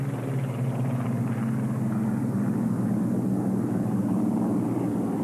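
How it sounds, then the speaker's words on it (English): A Supermarine Spitfire Mark 19 in D-Day markings flies past at an airshow, its piston engine giving a steady, loud drone that holds for several seconds. "This Mark 19 with the D-Day markings is flown by Squadron Leader Paul Day."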